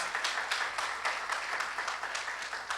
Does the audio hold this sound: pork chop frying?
no